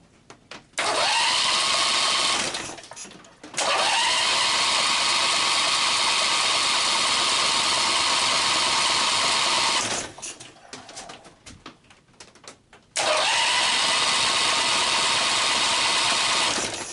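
A Briggs and Stratton opposed twin engine fires up and runs loudly, then cuts out, falls quiet with brief sputters, and starts again to a steady roar, three running stretches in all.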